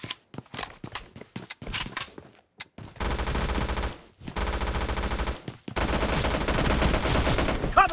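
Gunfire in the mobile battle game PUBG Mobile: scattered single shots and footsteps at first, then long, loud, sustained bursts of automatic fire separated by brief pauses, with no talking.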